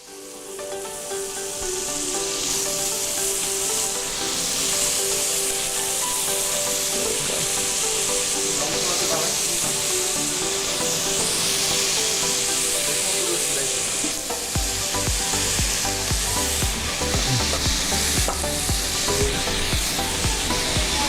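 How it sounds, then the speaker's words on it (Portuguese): Pieces of pirarucu fish laid one by one into hot fat, giving a loud, steady close sizzle that swells and holds throughout. "De novo, ó o barulhinho, sinal que a gordura está quente"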